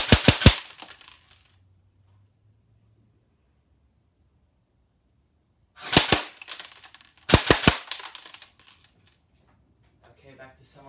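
An AEG airsoft gun fires on fully automatic in three short, sharp bursts of rapid cracks, each separated by several seconds of near silence.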